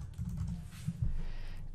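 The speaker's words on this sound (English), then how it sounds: "just by typing the ticker symbol or the name of the security that we actually want to analyze" Typing on a computer keyboard at a Bloomberg terminal, a quick soft run of key clicks over low room hum, close and faint, with no voices.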